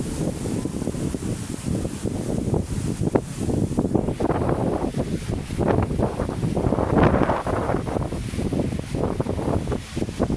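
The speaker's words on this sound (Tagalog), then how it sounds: "Napakalakas ng hangin." Strong wind at Manila Bay buffets the microphone in loud, continuous gusts with rumbling bursts throughout, no voices heard.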